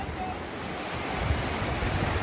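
Gulf of Mexico surf at Pensacola beach, a continuous hiss of breaking waves with wind buffeting the microphone and a low rumble rising near the end.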